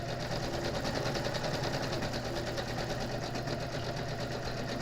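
A sewing machine running continuously during free-motion quilting, with a steady, fast mechanical stitching rhythm and a low motor hum, close and uninterrupted.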